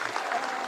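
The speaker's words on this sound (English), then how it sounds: "I think a big round of applause for Mr. Ramos." Seminar audience applauding in a hall at the close of a session on vocational guidance in hospitality services, a brief dense burst of clapping heard near and steady.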